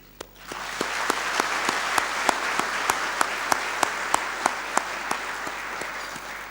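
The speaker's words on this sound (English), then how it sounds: "put our hands together in applause for KEPSA at 10 and Kenya at 50" A celebration crowd at a business association's tenth anniversary event breaks into sustained applause, the clapping swelling quickly and holding dense and loud, with a few sharp individual claps standing out in a steady rhythm.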